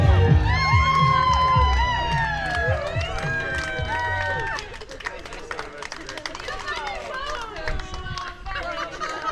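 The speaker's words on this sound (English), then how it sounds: "Make some noise, give yourselves a round of applause." Wedding guests cheering at a DJ's party set, a burst of shouting, whoops and high excited voices from a lively crowd, settling into noisy hubbub with chatter.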